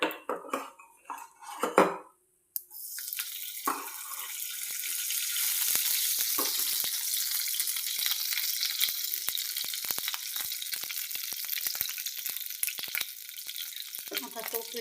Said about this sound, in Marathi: आता मी आणखी 1 चमचा तूप घालत आहे.